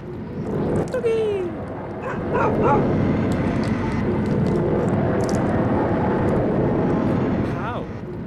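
In the video game Claire, a dog yips and barks a few times over a dense ambient background, with short whimpering calls mixed in amid the game's noise.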